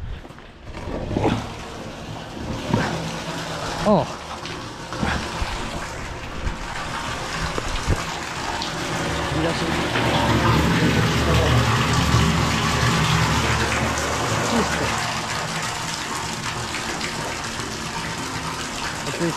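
Water gushes and gurgles steadily through a newly unclogged household drain pipe, swelling into a louder rushing flow midway; a man briefly exclaims near the start.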